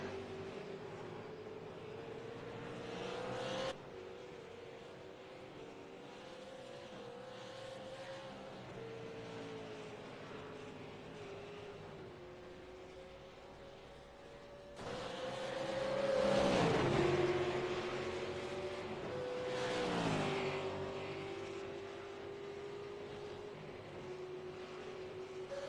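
Race cars circle a track with engine notes rising and falling as they pass, one car suddenly near and loud mid-clip before the sound fades back into a steady distant drone, no voices.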